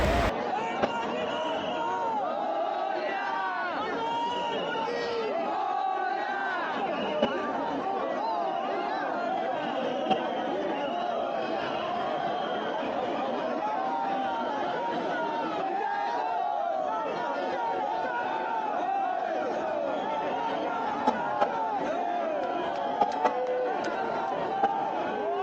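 A dense crowd at Lalbaugcha Raja in Mumbai on Ganpati immersion day makes a steady, unbroken hubbub of many voices, with occasional faint pops and knocks over the babble.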